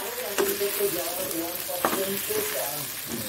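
Home-grown eggplants frying in a pan with a steady close sizzle, broken by a few sharper clatters of stirring, with faint tonal background voices.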